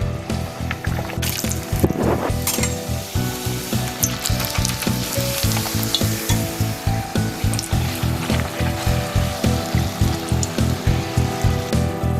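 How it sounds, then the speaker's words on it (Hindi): Puris fried in hot oil for a Himachal-style meal with sweet-and-sour pumpkin, a steady close sizzle with repeated rhythmic bubbling pulses throughout, no talking. "तो पूरी को मैं ऑयल में डालती हूँ।"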